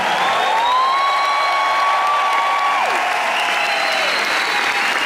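A concert crowd at Tempodrom Berlin claps and cheers for a show, a dense, loud, continuous wash of applause with whistles and whoops rising above it.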